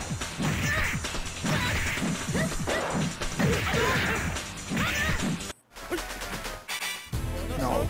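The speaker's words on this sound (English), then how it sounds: "Now Street Fighter Alpha 3, faster on OrangePi PC, better sound on OrangePi PC." Street Fighter Alpha 3 arcade game emulated on an OrangePi PC: busy fighting-game audio with smacking hit effects, whooshes and crashes over background music, dense and loud, with a brief dropout near the end.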